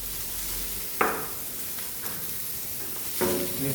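A lemon butter sauce with parsley, salt and black pepper sizzles softly in a pan while being stirred, with a couple of sharper scrapes of the spoon.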